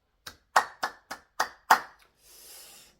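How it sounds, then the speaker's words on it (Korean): Six sharp, separate hand claps from one person at a religious talk, close and evenly spaced, followed by a brief soft hiss after a pause. "박수."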